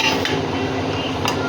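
A spoon scrapes and clinks against a karahi while chicken and chickpea gravy is stirred, giving a continuous close metallic scraping with a couple of sharper knocks.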